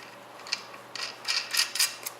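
A bolt is tightened on a motor during an inspection, producing a run of quick metallic ratcheting clicks, close and crisp, with a few short pauses and no speech.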